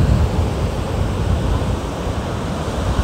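Ocean waves wash up on a shore in a steady broadband roar of surf, close and loud, with some wind rumble and no talk.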